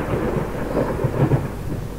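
In the Layers of Fear video game, a low rolling rumble of thunder blends with a steady wash of rain, a continuous dense ambience with no voices.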